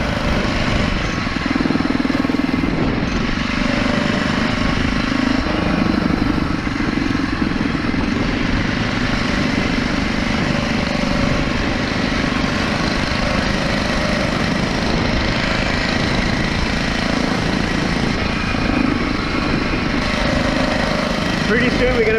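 A 2022 Phatmoto Rover motorized bicycle with a 7-speed Shimano gear, its small engine buzzing steadily and loud throughout while being ridden on a nice day, with wind rumble and no pauses.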